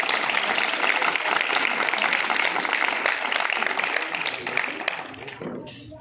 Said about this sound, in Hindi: एक बार जोरदार तालियां से बच्चों को